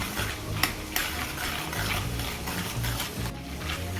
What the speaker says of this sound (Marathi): या ज्या डाळ्या आहेत ना त्या आपल्याला हलक्या जशा तळून घ्यायच्या आहेत